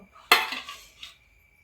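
A metal lid set down on a pot of milk in a home kitchen, one sharp clatter followed by a short ringing rattle and a second lighter tap.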